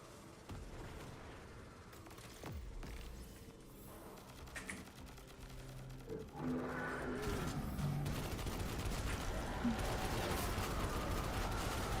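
Rapid gunfire and explosive bursts from the video game Destiny 2 in the Altars of Sorrow mode, dense and continuous, growing louder and busier in the second half with steady layered shots.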